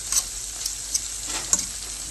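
Red pepper sautés in a pan for chicken piccata, giving a steady soft sizzle with a few brief clicks of stirring; no one speaks.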